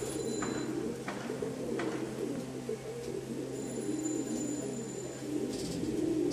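A male Giribaz pigeon cooing up close, repeated rolling low coos in a steady rhythm over a constant background hum, with a few faint higher chirps and no speech.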